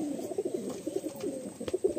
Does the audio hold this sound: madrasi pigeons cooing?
yes